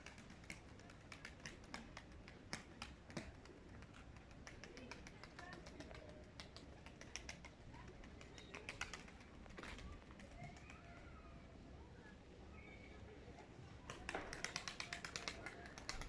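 Pigeons coo softly amid a steady background hum, with scattered tapping and flapping sounds, a young pigeon just starting to fly, and people talking nearby.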